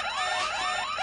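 A building's electronic alarm wails loudly and continuously, its tone rising in repeated sweeps, with no voices over it.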